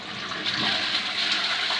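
A toilet cistern with a diaphragm ballvalve flushes in a steady, close rush of water that holds at an even level throughout, with no talking.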